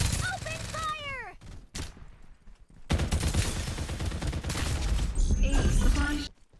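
Gunfire from the video game Farlight 84 comes in dense, loud bursts of rapid shots filling most of the stretch, with a brief game voice line and a short lull between the bursts.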